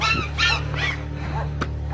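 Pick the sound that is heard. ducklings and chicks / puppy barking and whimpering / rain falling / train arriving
puppy barking and whimpering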